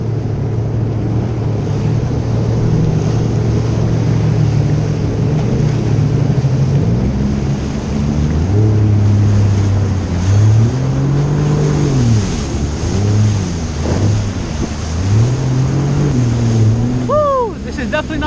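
A jet ski engine drones steadily while riding on water, with its pitch rising and falling as the throttle changes, and a wash of water and wind noise running underneath throughout.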